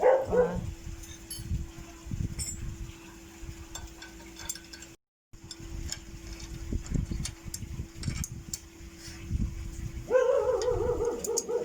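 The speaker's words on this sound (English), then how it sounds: "Excuse the dog barking" A dog barks several times beside a campervan, with sharp, close barks at the start and again near the end, and muffled low movement sounds between them.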